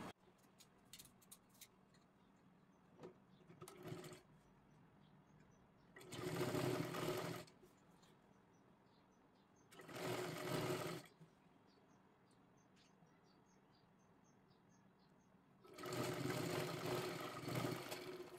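A sewing machine stitches along the edge of a kurti top in three separate short bursts, each a loud close whir of a second or two, with quiet ticks and small handling noises between runs.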